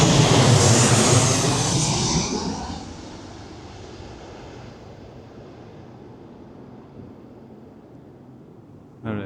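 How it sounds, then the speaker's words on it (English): An airplane passes overhead, its engine roar loud and broad at first, then fading steadily into a distant rumble over several seconds, with a short noise at the very end. "So, I think there's another plane coming here."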